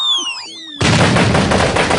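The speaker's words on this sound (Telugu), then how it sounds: "తుపాకీ సౌండ్" A gunshot effect played as a mobile phone ringtone: sustained loud burst of rapid gunfire-like noise that cuts in suddenly after a short stretch of chirpy tonal sounds and keeps going to the end.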